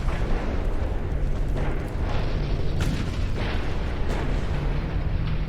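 A battleship explodes in the naval video game Ultimate Admiral Dreadnoughts, heard as a loud, continuous roar of booms and rumbling blasts, with several sharper bursts rising out of the dense wash of battle noise.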